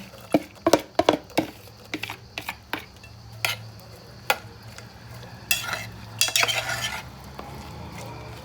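Chopped capsicum, beetroot, potato and carrot for pav bhaji are tipped into a pan and stirred, with a quick run of close clattering spoon knocks followed by scattered scrapes and short hissing bursts.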